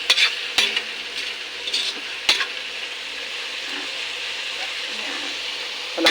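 Ground meat and papaya stir-fried in a pan, with a steady sizzle and repeated scraping stirs and clinks of the utensil against the pan, close up and alone.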